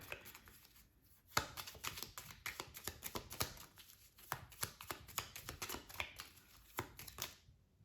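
Tarot cards are shuffled and drawn by hand, a quiet, close run of rapid riffling flutters and soft slaps that come in quick bursts with brief pauses, with no talk.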